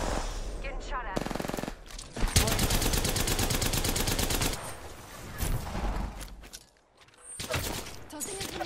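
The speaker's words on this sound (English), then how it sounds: "Getting shot at." Rapid bursts of video-game gunfire rattle loudly through most of the stretch, with dense automatic fire in the middle and a short lull before more shots near the end; a voice talks over parts of it.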